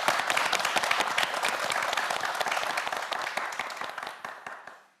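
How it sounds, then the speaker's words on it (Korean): A studio audience at a television quiz show gives the student contestants a dense, lively round of applause that holds steady, then tapers off and fades out. "네 학생 모두에게 다시 한번 힘찬 박수 부탁드립니다"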